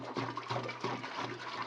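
Water running and splashing into a Fermzilla fermenter being filled toward 20 litres for a Coopers European Lager brew, a close, steady gurgling pour with no talk.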